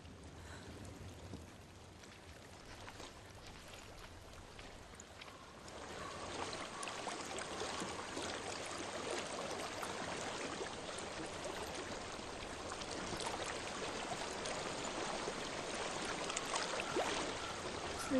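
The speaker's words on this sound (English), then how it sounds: "I hear water. Go to it." A flowing stream in the video game Hellblade: Senua's Sacrifice, a steady broadband rush of running water that swells noticeably louder partway through and then holds as a continuous close wash with no talk.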